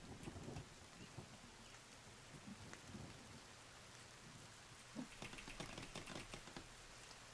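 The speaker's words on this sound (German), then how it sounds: "Oh ja, es gewittert." A faint, distant thunderstorm in the video game The Forest: a steady rain wash with soft low rumbles of thunder and a brief patter of heavier drops toward the end.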